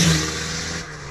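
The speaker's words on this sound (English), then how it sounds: "That's around where my turbo starts spooling" A turbocharged 2014 Honda Civic sleeper making about 500 horsepower revs hard under acceleration, a loud close engine roar with rising turbo spool and broadband intake and exhaust noise that eases slightly near the end.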